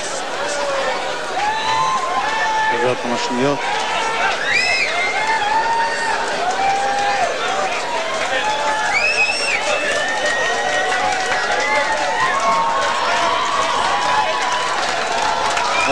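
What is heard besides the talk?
audience applauding at a concert in Tel Aviv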